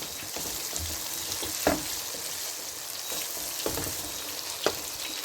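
Fish frying in a handi pot, a dense continuous sizzle with occasional stirring scrapes and pops, close and loud, no talk.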